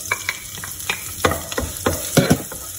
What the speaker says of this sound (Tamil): பூண்டை வந்து கொஞ்சம் லைட்டாக இதில் ஃப்ரை பண்ணி கொடுத்துடலாம்